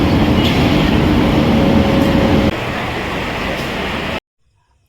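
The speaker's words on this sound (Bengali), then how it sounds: "ঘড়ির কাঁটা ঠিক 11টা 20 বাজতেই আমাদের ট্রেন ছেড়ে দিল।" The Padatik Express pulls out of Sealdah station at night with a steady loud rumble of wheels and carriages that drops in level partway through, then cuts to silence.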